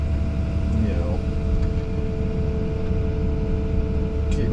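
An engine idling before it has warmed up, a steady low rumble with a faint whine on top, while someone talks over it.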